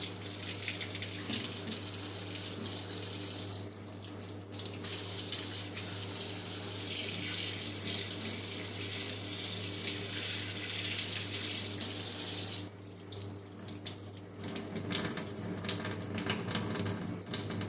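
A kitchen tap runs steadily into a sink while meat is rinsed and cleaned, a continuous loud splashing rush that dips briefly twice as the flow or hands shift under it.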